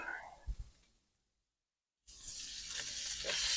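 Sausage sizzles on a hot griddle, a soft crackle fading to a brief silence before a loud, steady, close hiss of frying takes over.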